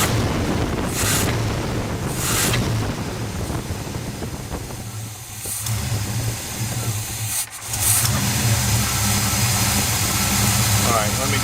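A dually truck fitted with a Q-jet carburetor idles steadily throughout, its low engine rumble running continuously and loud, with wind buffeting the microphone and brief pauses in between.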